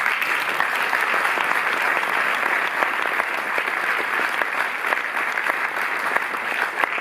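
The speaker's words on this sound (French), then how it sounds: "vous pouvez l'applaudir" Applause from a cinema audience at a Cinémathèque film presentation, a dense and even wash of many hands clapping that continues steadily at full strength from start to finish.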